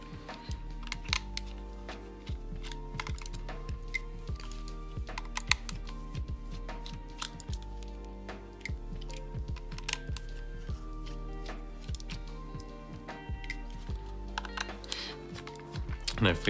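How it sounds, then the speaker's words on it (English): Four tiny screws are taken out of a Logitech G Pro Wireless mouse with a 00 screwdriver over a magnetic tray, making a steady patter of small close clicks and ticks while someone talks over it. "Just take out all four of these screws."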